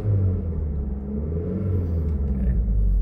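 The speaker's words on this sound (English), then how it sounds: "Car revs up nicely." A 2011 Mitsubishi Eclipse Spyder engine rumbles steadily and close by, a low, continuous drone that holds through the whole stretch with no voices over it.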